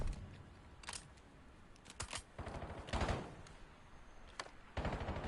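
Gunfire from the Black Ops 7 Survive the Island match, Twilight versus Tiki: scattered bursts of rapid shots come at irregular intervals, some sharp and close, others softer and more distant, over a constant busy background.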